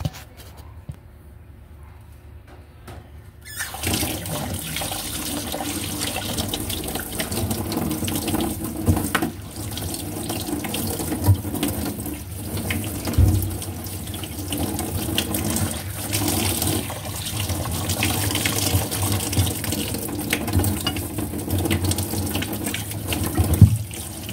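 Water runs steadily from a tap into a sink, with splashing and dish clatter as something is rinsed nearby, after a quiet start.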